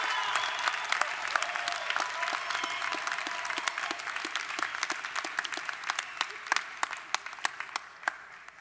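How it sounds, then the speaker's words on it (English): A commencement audience at the Urban College of Boston applauds the class of 2017 with sustained, dense clapping that stays steady and full throughout, with sharp individual claps popping out near the end. "how about a nice round of applause for the class of 2017?"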